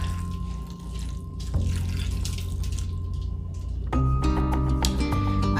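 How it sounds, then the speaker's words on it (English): Water poured into a cooking pot while a gravy with mushrooms and onions is being made, a steady close pour with drips and a brief pause before a louder, fuller stream. "A little more water."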